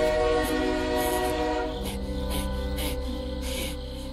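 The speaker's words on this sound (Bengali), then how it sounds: "হঠাৎ করে ট্রেনের শব্দ শুনতে পায়।" A train passes near a rail line at dusk as a sound effect in a horror audio story, a loud rumbling rolling drone with a steady tonal horn-like hum and rhythmic clatter, no voices.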